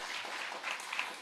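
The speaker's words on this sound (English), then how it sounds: "can we have another wonderful round of applause for our debaters this evening?" Applause from a debate competition audience, a dense, even wash of clapping from many hands lasting the whole short moment without pause.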